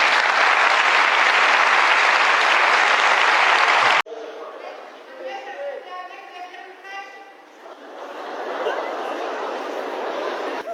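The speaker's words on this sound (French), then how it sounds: "ça s'applaudit, c'est beau" A comedy show audience breaks into loud, dense applause that fills the room for about four seconds, then cuts off abruptly, giving way to light chatter and scattered chuckles before the clapping and crowd noise swell again.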